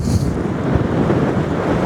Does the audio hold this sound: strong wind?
yes